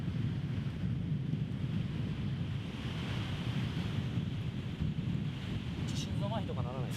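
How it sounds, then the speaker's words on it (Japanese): Cold wind gusts steadily across a Pacific Ocean beach, a constant low roar of wind against the microphone mixed with surf, with a few faint bird chirps near the end. "今のこの風もちょっと冷たいし"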